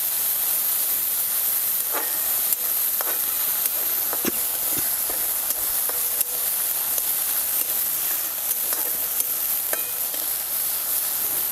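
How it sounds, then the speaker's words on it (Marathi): Green chilies fry in hot oil for a dried gram-leaf vegetable dish, giving a continuous loud sizzling hiss with scattered sharp pops and crackles throughout. "तेलात मिरची पण चांगली भाजून घ्यायची"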